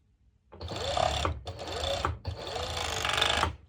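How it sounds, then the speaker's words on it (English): A serger (overlock machine) runs in three quick bursts, whirring as it trims and stitches fabric for a twisted-knot halter crop top, with brief pauses between the runs. "so now I'm going ahead to my serger, and I'm going to do the same. I will serge it"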